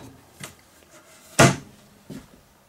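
A drawer in a converted cargo trailer's kitchen is opened and closed, giving a few short wooden knocks and slides, one loud sharp thud in the middle flanked by softer bumps in quiet surroundings.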